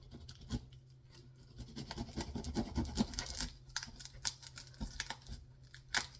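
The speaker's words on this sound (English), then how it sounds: "So what you do is you cut off the base." A knife saws through the tough base of a garlic bulb. The cut comes through as faint, repeated scratchy scraping and rasping strokes, close up and quiet, with no talking.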